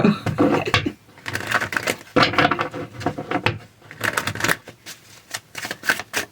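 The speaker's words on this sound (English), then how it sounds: "I like to shuffle until a card pops out." Tarot cards being shuffled in repeated bursts of crisp riffling and flicking, close up, with brief pauses between rounds.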